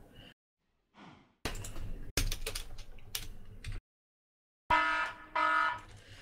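An alarm in the Minecraft Tekkit modpack sounds in uneven bursts of harsh, buzzing tone, separated by short gaps of quiet, with a brighter, steadier tonal wail toward the end.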